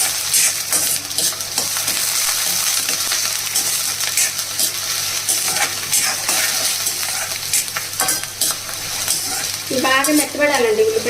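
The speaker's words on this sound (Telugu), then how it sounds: "ఉల్లిపాయలు, పచ్చిమిరపకాయలు ఇవన్నీ కొంచెం బాగా వేగేంత వరకు కొంచెం వేగించాలన్నమాట" Onions, green chillies and curry leaf sprigs fry in hot oil for a mixed leftover-vegetable curry, a steady close sizzle broken by spatula stirs and scrapes, with a louder, sharper crackle near the end.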